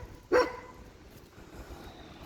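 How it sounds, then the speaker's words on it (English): Boris the dog lets out one short, sharp bark at moderate distance, then only low background rumble follows, with no talking. "because Boris just started barking"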